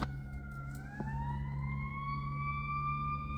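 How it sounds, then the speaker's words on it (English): A fire truck siren wails outside, its steady rising tone held loud and continuous over a low rumbling engine drone, heard from indoors without talk. "Sounds like a fire truck."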